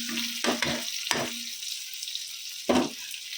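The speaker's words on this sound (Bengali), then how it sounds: "এই যে পেঁয়াজ রসুন আর কাঁচা লঙ্কাটা ভেজে দিচ্ছি" Onion, garlic and green chili fry in a pan with a steady close sizzle, broken by a few sharp bursts of stirring and clatter.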